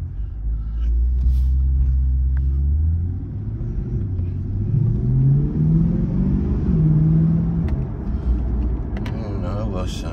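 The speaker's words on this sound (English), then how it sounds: "I'm gonna hop on the freeway, kind of let it air dry real quick" A Corvette C8 cruising on the freeway at night in tour mode sends out a steady, low engine and road rumble that rises and falls gently with the throttle.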